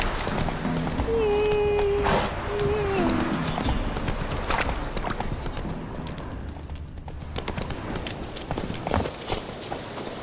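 Roach, the horse in The Witcher 3, gallops with steady clip-clop hoofbeats under continuous game ambience, while a short tonal whinny-like call rises early on.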